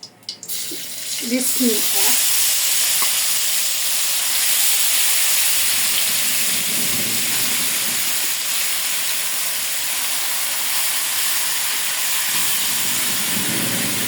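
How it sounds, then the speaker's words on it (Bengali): Kachki fish hitting hot oil in a wok, a loud, steady frying hiss running unbroken after a few short knocks at the start. "কড়াইতে আমি একটু তেল দিয়ে দিয়েছি তেল গরম হয়ে গেছে মাখানো সব কিছু মাছটা সব কিছু আমি দিয়ে দেবো"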